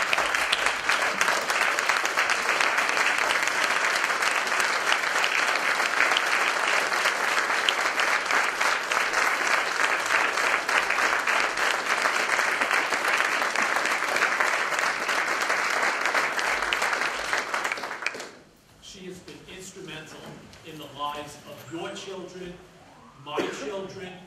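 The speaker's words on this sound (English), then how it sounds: "And I think she deserves a standing ovation." Standing ovation applause for Barbara Reitz at the 2014 Putnam County Youth Court graduation: loud, dense clapping from a large crowd that holds steady for about eighteen seconds, then stops abruptly, and a voice speaks afterward.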